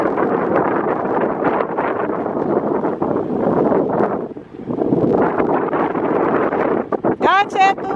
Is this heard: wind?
yes